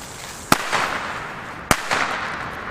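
Two sharp Chinese firecracker bangs go off about a second apart, each a loud crack followed by a brief echoing tail.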